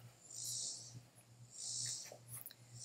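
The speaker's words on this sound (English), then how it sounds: "I hope you can't hear my dog, like, barfing over there." A dog retching and heaving indoors, two drawn-out wet retches with breathy gagging between, faint and somewhat distant in a quiet room.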